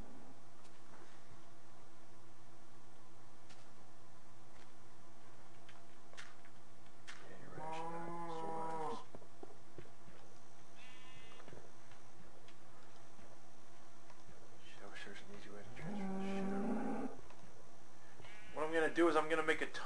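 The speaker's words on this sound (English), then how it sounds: "I'm going to get a sheep in here." Video game sheep bleat in short, wavering calls, two separate bleats spaced apart and then a third, over a quiet steady ticking in the background.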